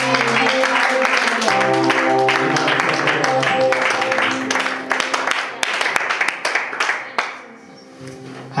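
A church congregation at a youth conference claps and applauds in acclaim, a dense sustained wash of clapping over music that thins and fades toward the end.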